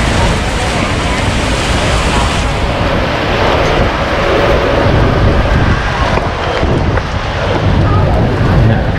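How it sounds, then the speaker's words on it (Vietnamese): Strong gusty wind during a heavy rainstorm in Saigon, a loud, constant roaring buffet across the microphone with rain noise mixed in, and faint voices partly buried underneath. "Có hay gió kìa, trời quá trời gió luôn quá."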